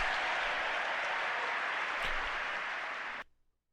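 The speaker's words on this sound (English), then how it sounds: "Both sides of the aisle are cheering for that." Members of Congress applauding and cheering in a recorded chamber, a dense, sustained wash of clapping that holds steady for about three seconds and then cuts off abruptly into silence.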